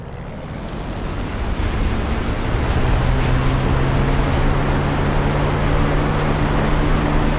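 A flight-sim aircraft engine throttles up for takeoff, a broad roaring drone that swells over the first few seconds and then holds steady and loud, with a low hum underneath.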